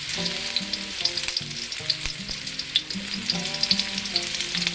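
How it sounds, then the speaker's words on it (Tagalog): Garlic sizzles steadily in a hot pan as the first step of a beef tendon sinigang, a bright crackling hiss that runs throughout with a few stirring knocks, while background music plays underneath. "Unahin po natin ang bawang sa paggigisa para mabango po yung ating lulutuin."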